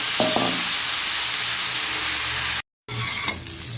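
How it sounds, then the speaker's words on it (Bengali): Chunks of taro fry in leftover hot oil ahead of potatoes and cauliflower, making a steady close sizzle with a few light clinks, broken by a brief silent cut before the frying resumes. "যে তেলটা বেঁচে আছে ওর মধ্যে দিয়ে দিচ্ছি কচুগুলোকে একটু প্রথমে ভেজে নেব।"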